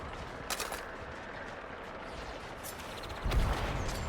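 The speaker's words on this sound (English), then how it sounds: "Focusing my fire as ordered, Deadshot" Scattered gunshots and impacts in the video game Suicide Squad: Kill the Justice League, a few sharp bursts over a steady background rumble, with a heavier blast toward the end.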